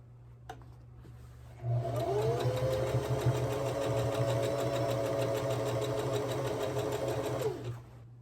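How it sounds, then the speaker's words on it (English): A sewing machine stitches the side seams of jeans in one steady, even run of rapid rhythmic clatter lasting about six seconds, close and alone. "Match the side seams back together and sew them closed."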